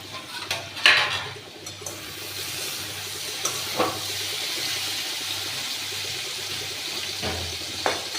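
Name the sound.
lid being lifted off a cooking pan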